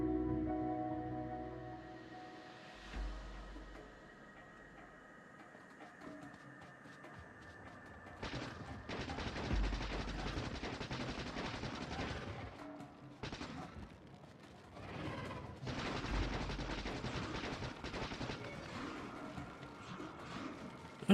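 Gunfire aimed at a biter spawner in Factorio: rapid bursts of shots come in two long volleys, separated by a short pause, fairly quiet and with no talking over them.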